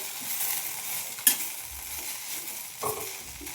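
Okra (ladies finger) fries in a pan with a steady, close sizzle, broken by a couple of sharp metallic scrapes of a spatula.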